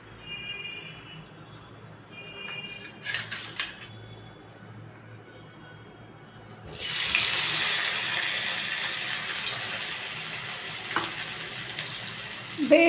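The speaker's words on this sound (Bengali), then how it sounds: "তার জন্য কড়াইতে সর্ষের তেলে প্রথমে আলুটা একটু ভেজে নিই।" Potatoes frying in mustard oil in a kadai: a dense, steady sizzle that bursts in suddenly after a quieter stretch with a few clinks, then keeps hissing loudly and close.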